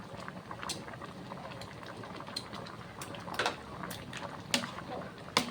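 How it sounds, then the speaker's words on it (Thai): Kaeng khi lek, a Isan-style cassia leaf curry, bubbles steadily in a pot, a soft simmering hiss with scattered pops and occasional sharper clinks, fairly faint and close. "เดี๋ยวให้มันเดือดอีกสักแป๊บหนึ่ง"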